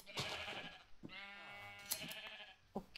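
A Minecraft sheep gives a single wavering bleat in the video game, quiet and clear, set among faint soft clicks and background game sounds.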